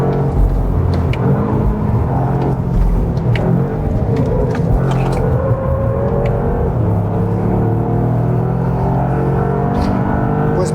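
A 2024 Toyota GR Yaris with automatic gearbox is driven hard around a race circuit, its engine droning loudly and continuously from inside the cabin, pitch rising and falling through gear changes and corners.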